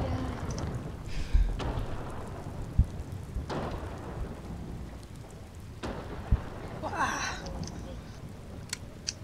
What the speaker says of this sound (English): It really do be raining